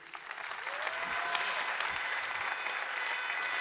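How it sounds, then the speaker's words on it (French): A political rally crowd applauds its election candidates, clapping building quickly into a sustained, even roar that carries on without pause. "On peut encore vraiment les applaudir."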